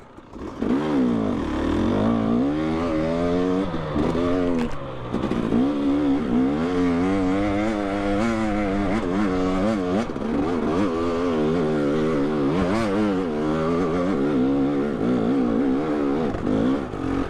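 A Yamaha YZ250X two-stroke dirt bike is ridden hard through the gears on a trail, its loud, raspy engine repeatedly revving up and dropping with each shift, close and continuous.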